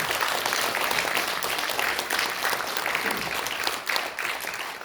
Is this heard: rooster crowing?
no